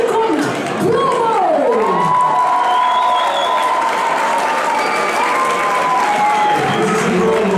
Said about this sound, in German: Bitte einen riesen Applaus.